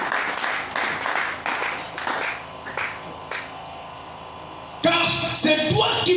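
A church congregation breaks into scattered applause, claps coming in uneven bursts that fade, then swell again louder and denser near the end.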